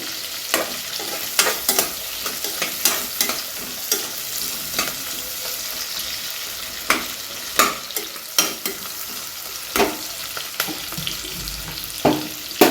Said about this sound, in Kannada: ಈಗ ಆನಿಯನ್ ಫ್ರೈ ಮಾಡ್ಕೊಳ್ಳಿ ಮುಂಚೆ